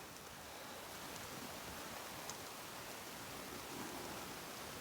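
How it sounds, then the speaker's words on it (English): Soft, steady patter of light rain on a tent, a continuous faint hiss with no voices. "I could hear just a light tapping on the tent"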